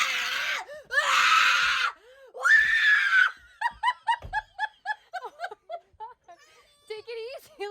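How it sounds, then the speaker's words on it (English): A woman screams her head off in shock when someone jumps out at her from a closet. Two long, loud shrieks are followed by a run of breathless, gasping laughter and giggles, all close to the microphone. "it's kind of a jump scare for those watching because she screams her head off"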